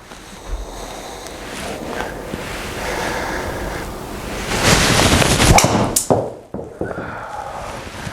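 A golf driver striking balls off 45-degree tees indoors: a few sharp, close cracks of impact rising above a steady wind-like background hiss, with a loud burst toward the end.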